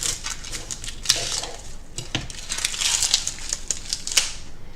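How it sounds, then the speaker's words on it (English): Chef's knife slicing through an onion on a chopping board, a scatter of crisp cuts and crunches with knocks of the blade on the board, close and moderately loud, without talk. "Hand like a bridge, knife under the bridge, and then cut your onion in half"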